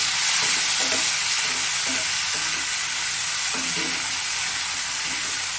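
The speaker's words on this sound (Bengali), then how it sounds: "এবারে দিয়ে দেবো চিংড়ি মাছটা আর এই চারটে কাঁচা লঙ্কা এবারে একসঙ্গে ভেজে নিতে হবে সব" Prawns and four green chillies fry together in a pan, a constant loud sizzle and hiss with soft stirring knocks now and then, no talking.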